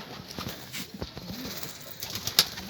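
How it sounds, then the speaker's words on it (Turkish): Pigeons cooing close by, repeated low throaty coos in an irregular rhythm, with a brief flutter of wings near the end. "Maşallah maşallah nasıl ötüyor baba."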